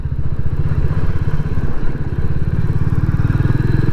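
A Royal Enfield Classic 350 single-cylinder motorcycle engine thumps steadily while riding, a loud low rhythmic pulse under rushing wind noise.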